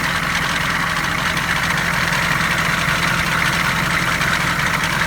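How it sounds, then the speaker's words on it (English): A Harbor Freight air compressor pumping up a tire drones loud and close in a steady, unbroken mechanical rattle, with no voices over it. "we're just gonna blow it up and see how well this thing pumps up a tire"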